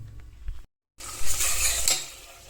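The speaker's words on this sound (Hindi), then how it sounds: "तो अब तड़का वड़का भूनते हैं।" Spices for pulao tempered in hot oil in a pan, a bright continuous sizzle with stirring scrapes after a brief silent gap, close and steady with no talk.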